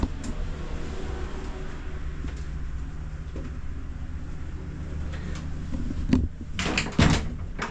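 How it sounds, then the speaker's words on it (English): A shower door aboard a Grand Banks 52 Europa motor yacht opens and closes with a couple of quick knocks and a soft thud near the end, over a steady low engine or generator hum. "Shower door."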